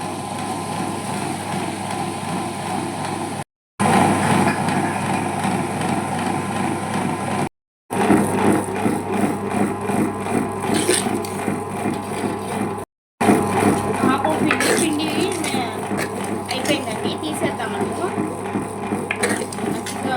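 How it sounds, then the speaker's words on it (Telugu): A wet grinder grinding soaked rice, running with a steady whirring hum and gritty churning, the motor noise continuous apart from a few abrupt brief cuts. "నానింది బియ్యము ఇప్పుడు గ్రైండర్కి వేసేస్తాను"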